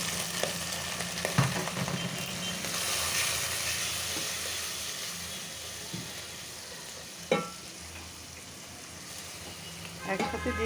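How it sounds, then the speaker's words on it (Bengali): Spices, tomato and ginger-garlic paste fry in a pan with a steady sizzle, interrupted by several sharp utensil knocks and stirring scrapes, close and moderately loud. "আমি পানিটা দিয়ে দিচ্ছি এখন মশলাগুলো দিয়ে দিই এখানে টমেটো আদা রসুন পেস্ট মরিচ হলুদ ধইনা গুঁড়ো লবণ একসাথে দিয়ে দিচ্ছি"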